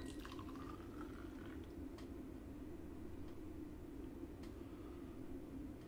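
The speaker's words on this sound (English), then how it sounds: "now we have around 2 minutes done, so we can pour both teas." Brewed Gyokuro and matcha green tea poured into glasses, a steady liquid trickle and splash running throughout at moderate level over a low background hum.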